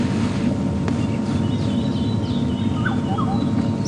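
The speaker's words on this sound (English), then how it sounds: "Sounds like one of the scrub robins." A scrub robin calls faintly in the distance at Djuma Game Reserve, a few thin whistled phrases over steady wind and the low rumble of a safari vehicle.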